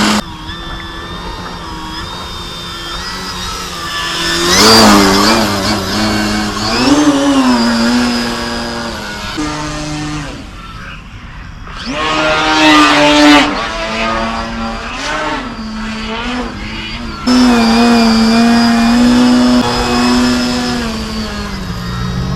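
An Edge RC plane with a new, smaller electric motor that runs a bit hot flies overhead, and its loud whine rises and falls in pitch as it swoops past and climbs away repeatedly.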